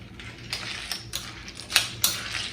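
A spoon scraping and clinking against a microwave bowl while stirring chocolate chips with heavy whipping cream, several light irregular taps and scrapes, quiet and close.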